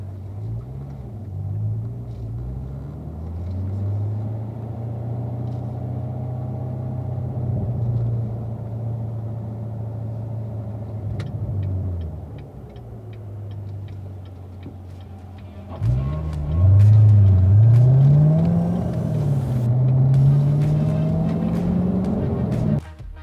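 Car driving on a road, used to test a u-blox EVK-M9DR dead-reckoning positioning kit; a steady engine rumble and road noise that rises and falls with gear changes, louder toward the end.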